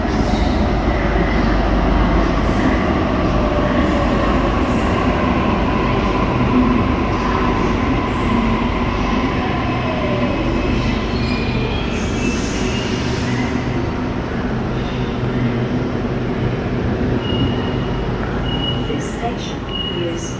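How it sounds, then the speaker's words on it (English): A Sydney Trains Waratah Series 2 B set electric train rumbles along with a continuous, loud running roar. Faint wheel squeal threads through it at times. "Welcome on board the Waratah Series 2, also known as the B set."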